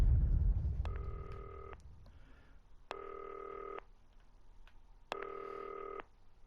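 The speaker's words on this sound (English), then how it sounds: "I have a call for you. I'm just putting it through." A telephone rings three times in the video game Not For Broadcast, each ring a clear, steady electronic burst about a second long with short pauses between, heard alone over faint room noise.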